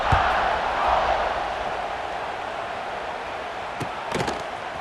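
Stadium crowd in a college football video game, LSU versus Alabama, holds a steady broad roar through a kickoff, with a few sharp knocks near the end and faint commentary underneath.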